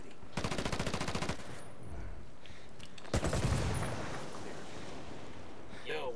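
Bursts of automatic gunfire from a firefight in the tactical shooter Ghost Recon Wildlands during ranked PvP, two rapid volleys separated by a lull, loud and close, with a voice speaking faintly underneath.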